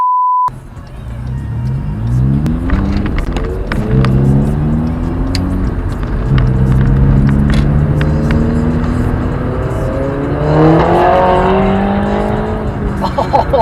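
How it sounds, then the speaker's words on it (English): A Vauxhall Corsa spins its wheels while pulling away, with engine revs climbing and falling through several gear-like sweeps and a tyre squeal building near the end, loud and close from inside the car. "I did a wheel spin when I set off."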